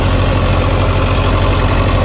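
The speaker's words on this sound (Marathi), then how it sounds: "हे गडी हा ट्रॅक्टर काय त्याच्या आवाजात बदल जाणवतोय का बघा" A Powertrac Euro 55 Next four-wheel-drive tractor runs loud and close while driving a 40 HP Farmi threshing machine through its PTO, a steady throbbing engine drone with mechanical rattle and no voices.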